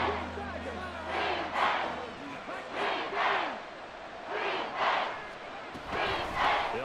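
A packed American football stadium crowd roaring during a game, swelling rhythmic chanting and cheering in repeated waves, loud and reverberant, with a play-by-play commentator's voice over it.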